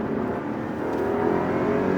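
A BMW 530i engine held at steady high revs of 4,500 RPM, a continuous smooth drone with no talking.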